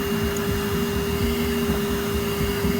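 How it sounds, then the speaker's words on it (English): A portable spot cleaner on a boat vacuums up dirty water, running steadily nearby with a loud motor whine and a gurgling, slurping churn underneath. "and then vacuum it up"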